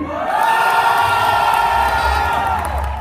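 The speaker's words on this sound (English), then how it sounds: "on my count, cheer to the loudest" A dinner-event audience cheers loudly on a count, a dense wall of shouting and whooping voices sustained for about three seconds, close and full.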